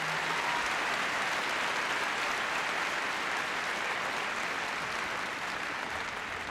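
Steady, dense audience applause fills the hall at the Crufts 2012 hearing dogs display, loud and sustained without a break, with no talking over it.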